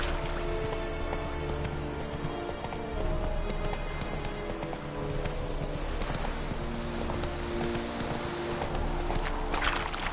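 Horse hooves clip-clop steadily in The Witcher 3 video game, a continuous rhythmic trot over a dense ambient game soundscape with a faint hint of rain and an occasional whinny.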